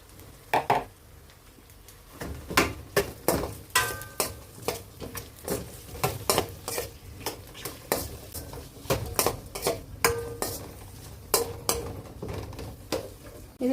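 Chopped onion goes into a pan of garlic and mustard seeds for a vegetable gravy, with a steady sizzle under repeated spatula scrapes and stirring taps against the pan, close and fairly quiet.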